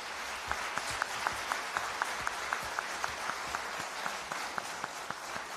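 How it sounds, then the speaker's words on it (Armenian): Audience at an Armenian political rally applauds, a moderately distant, even bed of clapping with a few sharper claps standing out at a steady, rhythmic pace. "խնդրում եմ ծափահարենք"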